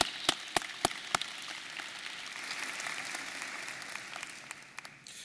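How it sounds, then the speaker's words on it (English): Applause from a seated audience at a university convocation, a dense steady patter of many hands after several sharp individual claps at the start, filling a large hall and slowly tapering off. "One more round of applause."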